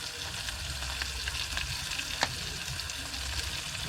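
Onions fry in a pan with a continuous close sizzle, dotted with small crackles and a couple of faint stirring clicks.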